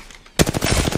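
Rapid automatic gunfire in an Apex Legends match, a loud burst of evenly spaced shots kicking in after a brief quiet lead-in and continuing to the end.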